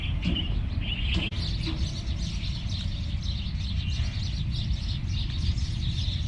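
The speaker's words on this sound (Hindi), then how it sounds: "देखो देखियो चिड़िया की चहचहाट, ची ची ची ची ची ची ची ची ची ची।" A flock of birds in a home kitchen garden chirps and squabbles in a busy, overlapping chatter of quick high tweets, steady and fairly close over a low background rumble, with no one speaking.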